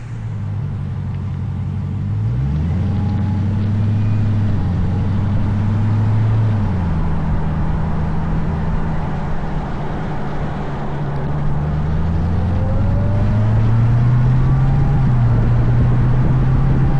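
Dodge Hellcat driving, heard from inside the cabin: a steady low engine drone and road rumble with gear shifts lifting and dropping the pitch, continuous and fairly loud.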